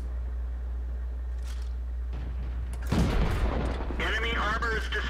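Tank cannon fire from World of Tanks, a deep boom landing partway through over a steady engine rumble, with higher-pitched in-game effects following.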